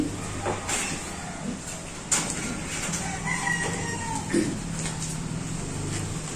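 A breeding gamefowl rooster crows nearby amid outdoor farmyard noise, with clucks and other bird calls around it.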